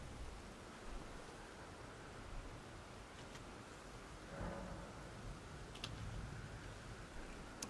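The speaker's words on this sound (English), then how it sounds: "It's raining, John." Steady rain in the game Elden Ring, a faint, even hiss of falling water with a few soft ticks scattered through it.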